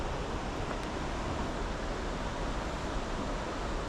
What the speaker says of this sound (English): Of course, you can still hear the noise of the falls.